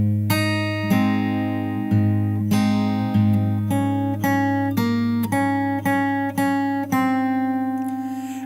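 Fingerstyle guitar alone plays the changed final bar of a song's post-chorus. About a dozen crisp plucked notes ring over a sustained low bass, and the last note decays into a fading ring.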